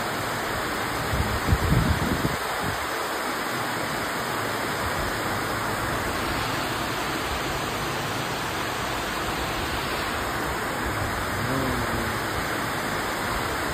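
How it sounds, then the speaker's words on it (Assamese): Steady, dense rain pours down in a continuous hiss, with a few brief knocks near the start. "কি বৰষুণৰ শব্দ"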